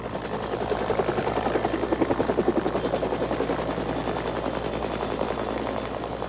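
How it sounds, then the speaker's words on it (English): National Guard Army helicopter rotors beat in a fast, steady rhythmic chop during a flood rescue, a continuous mid-distance thrumming that swells slightly and fades. "Calling in Army helicopters from the National Guard."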